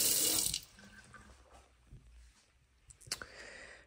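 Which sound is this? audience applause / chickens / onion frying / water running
water running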